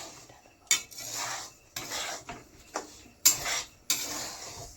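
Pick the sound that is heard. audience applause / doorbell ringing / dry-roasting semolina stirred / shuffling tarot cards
dry-roasting semolina stirred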